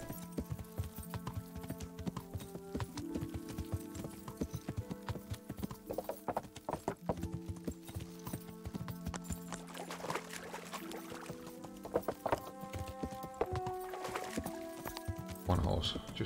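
Horse hooves clip-clopping in a steady rhythm while riding along a road in Kingdom Come: Deliverance, mixed with game music and occasional ambient sounds, with someone talking throughout.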